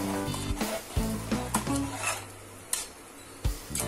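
Food frying in butter in a pan for a quick country chicken biryani, stirred and mixed with scraping strokes over a steady close sizzle, with intermittent louder knocks and scrapes.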